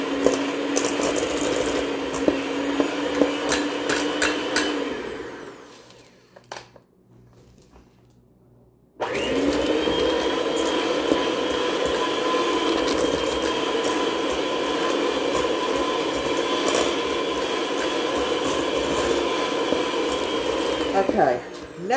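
An electric mixer whirs steadily through maple chocolate chip cookie dough, pausing briefly and then restarting for a long, even run, loud and close.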